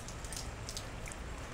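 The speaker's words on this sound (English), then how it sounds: "Some serious rain action going on out there. It's been coming down non-stop for like an hour." Heavy rain pours down outside after an hour of steady downpour, a constant dense hiss with occasional distinct drop patters, no voices.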